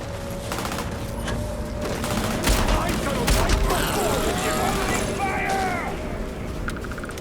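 Sustained gunfire in the video game Starfield, a continuous dense fusillade of rapid shots and mechanical clatter with heavier bursts, close and loud, with voices mixed in.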